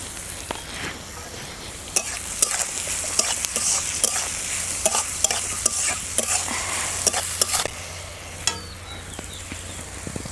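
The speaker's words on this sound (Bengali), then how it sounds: "তো আমাদের সবজিটা কিন্তু ভাজা হয়ে এসেছে" Mixed vegetables for paratha filling fry in a pan with a continuous soft sizzle, punctuated by repeated sharp scrapes and taps of a spatula stirring, fairly close and without talk.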